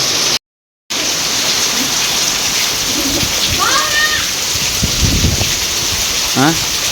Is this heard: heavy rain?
yes